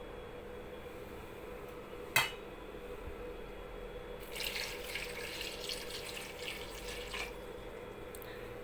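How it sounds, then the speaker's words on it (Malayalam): After a single metallic clink, water is poured over mangoes in a cooking pot for curry, a soft splashing stream that starts halfway through and runs on quietly. "നമുക്കിതിന് അത്യാവശ്യം ഈ മാങ്ങ ഇങ്ങനെ കവർ ചെയ്ത് നിൽക്കുന്ന രീതിയിലുള്ള വെള്ളം ഒഴിച്ചു കൊടുക്കാം."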